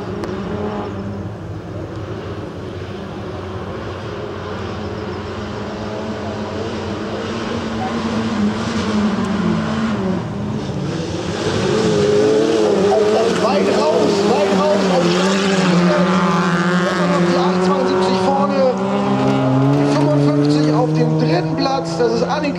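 Autocross race cars, including a Honda Civic, run head to head at the Birkenring-Hoope track. Their engines rise and fall in pitch as they approach and grow louder and closer midway, with a brief tire squeal.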